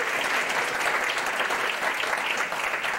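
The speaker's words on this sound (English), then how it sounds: "how about a round of applause for them?" Conference audience clapping at a charitable giving development day, dense steady applause from a room full of people, loud throughout with no voices standing out.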